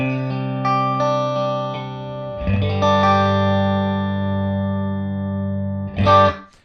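An electric guitar plays through a Matchless Chieftain amp with no reverb and all tone controls at noon, sustained chords ringing clean and full, changing once midway, then a brief strummed accent near the end.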